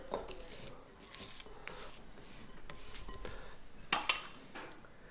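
A utensil scrapes leftover brownie batter from the sides of a mixing bowl in a few close, irregular scrapes and clinks, with quiet gaps between them.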